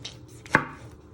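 A single sharp knife chop through vegetables on a cutting board while preparing ratatouille, one crisp close impact standing out against quiet kitchen room tone.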